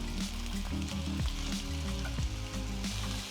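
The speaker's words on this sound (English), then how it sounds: "When our oil is nice and hot, we're going to add all the onion and the nopalitos." Onion and nopales (cactus) sizzle in hot oil, a close, steady crackling fry layered with clattering, tonal knocks of the pan and utensil, with no voices.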